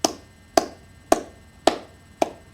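Five evenly spaced hand claps, sharp and close, marking a slow steady beat with no other sound between them.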